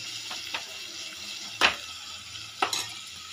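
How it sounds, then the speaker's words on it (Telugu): Ridge gourd curry stirred and frying in oil in a pan, with a few sharp scraping stir strokes and soft sizzling between them, close and fairly quiet. "ఈ ఆయిల్లో బాగా కొంచెం మనం ఫ్రై చేసుకోవాలి"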